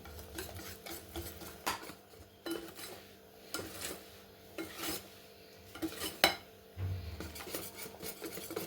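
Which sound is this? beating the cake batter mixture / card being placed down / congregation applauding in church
beating the cake batter mixture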